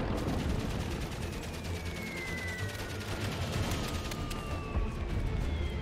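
Sustained gunfire in the World War I game Valiant Hearts: The Great War, a dense steady barrage of rapid shots over a constant noisy battle din, fairly loud throughout.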